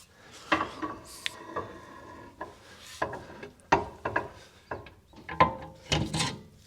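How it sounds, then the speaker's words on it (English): Toyota 4Runner axle shaft sliding into its housing: a series of intermittent metallic scrapes, clicks and rubbing knocks, close and fairly quiet, irregularly spaced with short pauses between. "Now let's slide the axle shaft in there."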